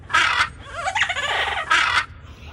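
Harsh, raspy parrot squawks, two loud bursts bracketing a warbling, chattering call, close and clear over faint background noise.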